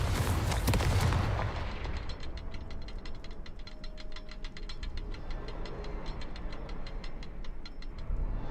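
A Confringo blasting curse going off in Hogwarts Legacy: one loud, sharp explosive burst, followed by a long run of quick, steady ticking clicks over a low background rumble.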